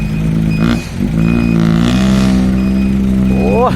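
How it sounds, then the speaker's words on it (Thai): A vehicle engine rumbles loudly and revs, its throaty exhaust pitch climbing and dipping, then rising sharply at the end. "เสียงท่อเลย"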